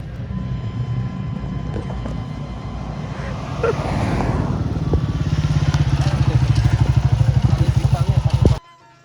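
A motorcycle engine drones close by on a road, growing louder and steadier midway with a rapid pulsing beat before cutting off abruptly; voices are faint under the engine.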